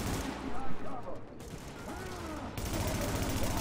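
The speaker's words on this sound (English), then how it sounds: "let's shoot that barrel" A gunshot at a barrel in The Division, heard within loud, dense gunfire and mechanical clatter that starts off busy, dips, then returns strongly, with speech mixed in.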